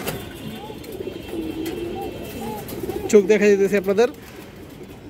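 Silver khaki female pigeons coo softly and then in a louder, pulsing burst of throaty cooing, close by, with someone talking over the birds.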